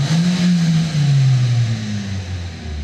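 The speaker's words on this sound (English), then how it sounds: "If I rev it" A warmed-up car engine revs up loud and close, its pitch climbing, wavering, then easing back in one sustained surge with no talking.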